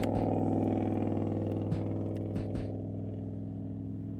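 A truck engine idles in the video game Kitten Space Agency with a steady low rumble, a few clicks and knocks over it, and the hum eases slightly toward the end.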